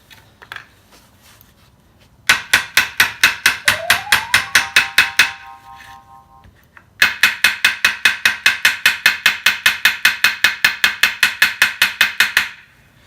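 A hammer strikes brass on solid ground to raise a hammered finish. Two long runs of rapid, evenly spaced, ringing metallic blows sound close and loud, separated by a brief pause.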